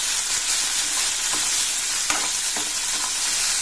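Loud, dense sizzling of a hot tempering in a pan as buttermilk goes in for besan kadhi, a constant hiss with a few faint stirring clicks.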